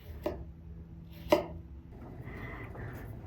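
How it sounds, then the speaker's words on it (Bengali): A knife cuts through a ripe sweet pumpkin with two sharp, distinct chopping strikes, followed by quieter scraping and handling sounds in a calm kitchen. "মিষ্টি কুমড়া সুন্দর করে একটু কেটে নিই যাতে ভেতরে ভালোভাবে সেদ্ধ হয়"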